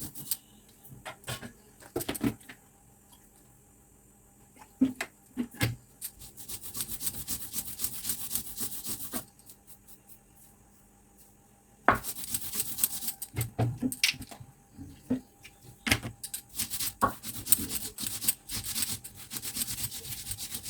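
Poppy seeds are ground by hand into a coarse paste. Gritty scraping and rubbing comes in bursts separated by short pauses, close and moderately loud, with no voices.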